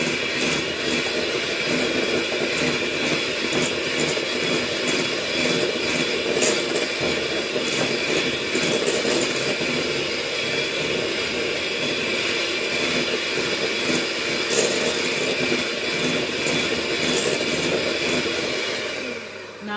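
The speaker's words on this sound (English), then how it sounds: "this mixer here is a little bit noisy when I get to it" A loud, steady electric mixer motor whir runs continuously without a break while creaming, a dense mechanical drone that stays level throughout.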